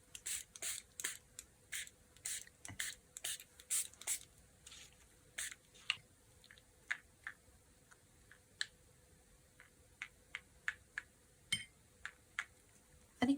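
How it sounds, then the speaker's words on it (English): White ink spray is misted onto recycled packaging in a long series of short, crisp aerosol bursts, irregularly spaced and fairly quiet, with no talking. "I have some white ink spray. Maybe I can spray with that here."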